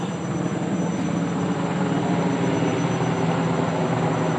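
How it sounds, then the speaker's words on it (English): A helicopter drones overhead in Singapore, a steady, loud rotor and engine roar with a faint pulsing texture that holds without pause, no voices over it. "I can't vlog with all this helicopter flying past by."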